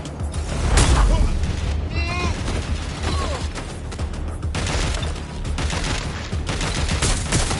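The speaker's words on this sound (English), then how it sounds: "Shots fired! Taking fire!" Dense gunfire crackles through a Watch Dogs: Legion firefight, loud and continuous bursts layered with booms, while character voices shout over the shooting.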